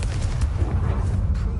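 A Confringo blasting spell goes off in a Harry Potter video game, a loud, booming explosive burst with a deep rumbling tail that fills the whole short moment.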